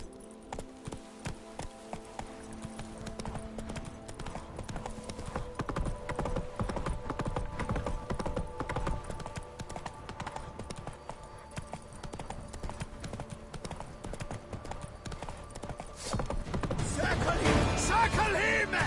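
Horse hooves clip-clop at a steady gallop in The Witcher on PS5, loud and continuous through the clip under a low hum, with a faint neigh and rising clamour toward the end.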